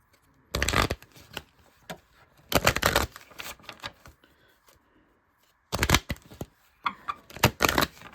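Oracle cards are shuffled by hand in several quick riffling bursts, crisp and close, separated by quiet pauses with small taps and rustles.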